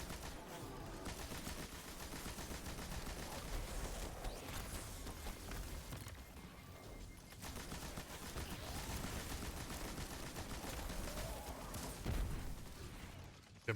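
Game gunfire from Destiny 2 rattles in dense, rapid bursts across a busy combat soundscape, shots overlapping with mechanical clanks and effects, steady and fairly quiet throughout.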